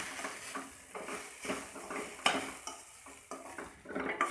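Beetroot fry in a pan on low flame, with a lid lifted and a spoon stirring: a run of scraping, clinking utensil knocks and soft rustling over a faint sizzle, close and irregular, with no talk.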